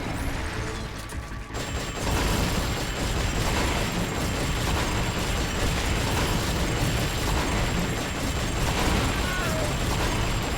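In the video game Metal Gear Solid: Peace Walker, sustained gunfire is aimed at a boss. It makes a dense, loud, continuous clatter of shots and mechanical rattling that starts after a brief quieter opening.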